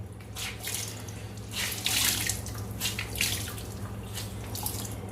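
Water splashing and trickling as a wet cloth is wrung out by hand at a sink, with steady dripping and pouring under a constant low hum, close and fairly loud throughout.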